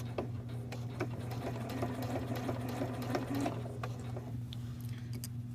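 A sewing machine runs steadily while stitching a neckband onto a V-neck tee shirt, a close, even mechanical hum with a fast repetitive needle rhythm throughout and faint handling noise on top.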